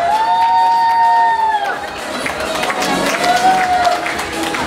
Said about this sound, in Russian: Громче, громче аплодисменты, друзья.